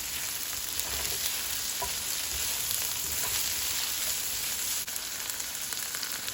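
Peas sizzling and frying in a hot pan with carrot for chicken and shrimp fried rice, a steady close crackling hiss with faint stirring scrapes and no talk.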